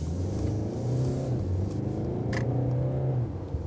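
Mercedes E-Class W213 pulling away under acceleration, a steady, rising mid-range engine drone with a low rumble, heard up close and continuous for a few seconds, with no talking.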